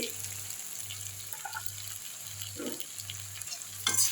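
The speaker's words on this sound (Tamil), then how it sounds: "இதை நல்லா வதக்கி விட்ருவோம்" Fried idli pieces sautéed in a pan for chilli manchurian, with a steady close sizzle, occasional stirring scrapes and a low pulsing hum behind them.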